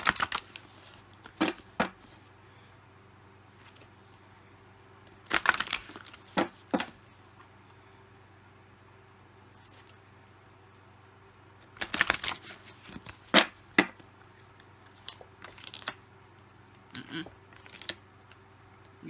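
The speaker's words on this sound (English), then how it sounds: "You saw I shuffled, guys." Short bursts of crisp riffling and snapping, like a deck of cards being shuffled, come in a few clusters separated by quiet pauses.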